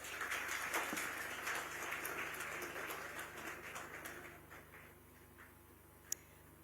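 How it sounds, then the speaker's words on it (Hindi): Applause from a conclave crowd at the Mahakumbh 2025 in Prayagraj, dense and fairly distant, gradually fading over several seconds, followed by quiet and a single sharp click. "तालियों की गड़गड़ाहट देखिए कम नहीं होनी चाहिए।"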